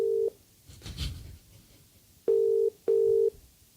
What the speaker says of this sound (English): You can ring Greg.